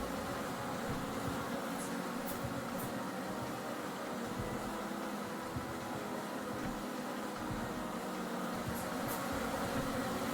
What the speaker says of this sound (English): The bees are not swarming to kill me, which is great.